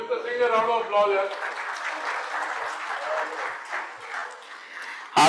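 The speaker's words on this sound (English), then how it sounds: "Give Mr. Singh a round of applause" An awards summit audience gives a round of applause at moderate volume, the clapping sustained and tapering toward the end, with a voice speaking over the start.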